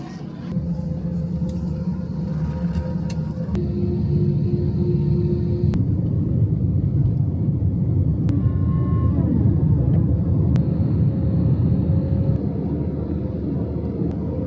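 Passenger airplane touching down and rolling out on the runway in Korea, heard from inside the cabin as a loud steady engine roar and rumble with a few brief tonal sweeps, no talking.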